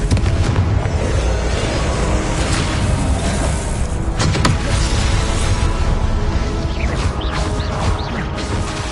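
Confringo blasting spells explode in Hogwarts Legacy, heavy booming blasts layered in a dense, continuous roar of combat noise with sharp cracks near the middle.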